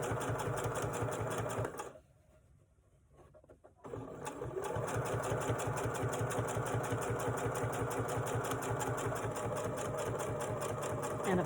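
A sewing machine stitching a single hem runs at a fast, even mechanical chatter, stops for about two seconds, then starts again and carries on steadily, close and alone.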